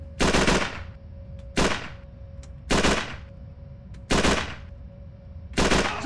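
Bursts of automatic gunfire in Call of Duty 3, five loud separate volleys spaced about a second apart over a faint steady background tone, with no talk.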